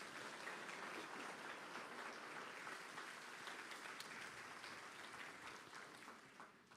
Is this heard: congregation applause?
yes